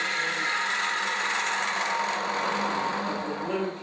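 A half-inch bowl gouge cuts wood on a spinning lathe, giving a close, steady whirring scrape that holds evenly for several seconds.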